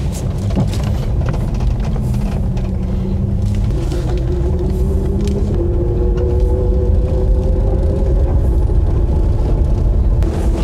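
An electric-converted 1977 Porsche 911 Targa drives on the road, heard from inside as a loud, constant low rumble with a faint rising whine gliding upward as it accelerates.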